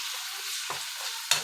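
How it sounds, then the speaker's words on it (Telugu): Chopped onions and green chillies fry in hot oil, making a soft steady hiss at close range that is broken by two brief stirring scrapes. "ఆయిల్ హీట్ అయ్యాక కట్ చేసుకున్న ఆనియన్స్, పచ్చిమిర్చి వేసుకోవాలి."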